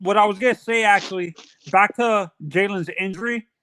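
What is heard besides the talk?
No everyday noise stands out behind the speech.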